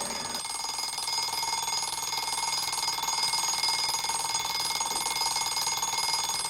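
A morning alarm clock rings continuously with a shrill, tonal buzzing that stays loud and steady throughout, with no voices.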